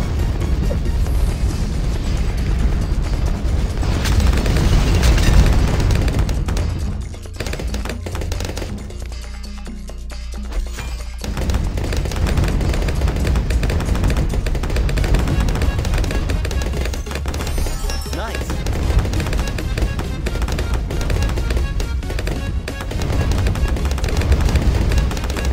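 Hydra Rocket Pods in Bloons TD Battles 2 fire a dense, loud barrage of rocket explosions, with rapid bursts and booms running almost continuously, dipping briefly partway through before resuming at full intensity.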